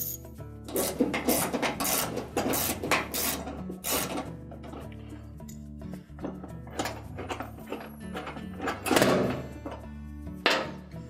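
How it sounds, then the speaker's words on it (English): A 3/8 bolt being worked out of a Whirlpool dryer motor frame during an idler assembly replacement, heard as close, fairly quiet bursts of rasping tool strokes with scattered metallic knocks and pauses. "Then next we'll take that 3/8 bolt out."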